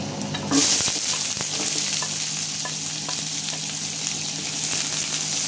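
Ginger and onion hit hot cooking oil in a pan and sizzle steadily close by, with a sharp burst as they go in followed by continuous frying hiss and occasional stirring clatter.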